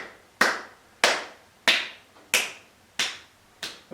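Hands clap during a gentle yoga exercise, six sharp, evenly spaced claps about half a second apart, close and crisp with brief room echo, and no talking between them.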